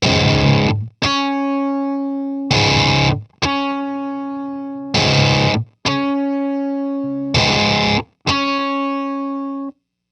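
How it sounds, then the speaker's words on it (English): Distorted electric guitar through a whammy pedal pitched two octaves up, playing repeated short bursts of strummed chords followed by sustained high notes, loud and alone in a steady cycling pattern. "it's played with the whammy pedal set to 2 octaves higher"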